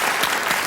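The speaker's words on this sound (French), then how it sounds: "Et on applaudit très fort Sandrine et Pascal." French game show studio audience breaking into loud, dense applause, a brief burst of many hands clapping close and bright, with no talk on top.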